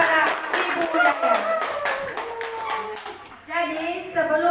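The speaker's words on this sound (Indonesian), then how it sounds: "Berikan tepuk tangan yang kedua" Applause from an audience at an Indonesian school socialization session, a dense burst of hand clapping that is loud at first and then thins out, with voices talking over it.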